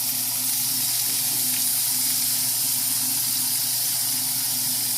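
Filet mignon sears in a hot pan, a loud continuous sizzle and hiss that holds steady throughout with no voices.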